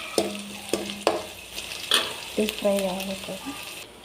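Ginger garlic paste fries in a pan for egg noodles, with a soft sizzle under a series of sharp spatula taps and scrapes against the metal, close and moderately loud.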